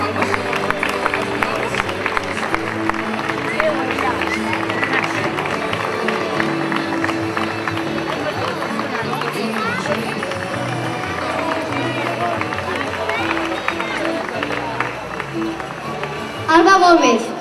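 Steady applause from an audience at a festival ceremony in Ripoll, continuous and fairly loud, with voices and crowd murmur mixed in.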